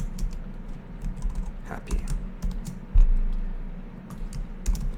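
Someone types a field name on a computer keyboard: irregular bursts of close key clicks with a heavier thump midway, and a brief spoken word.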